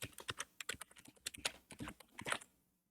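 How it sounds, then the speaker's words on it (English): Close, crisp clacking of a computer keyboard as an email address is typed in, a quick uneven run of keystrokes with short pauses, ending in silence. "if this user wants to share, then we'll type in their email address"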